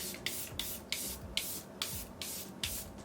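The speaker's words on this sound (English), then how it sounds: "Powders are done, which means I'm going to go in with another layer of setting spray." Setting spray mists onto a face in about eight short, quiet bursts at a steady rhythm, each a soft close hiss over a faint room background.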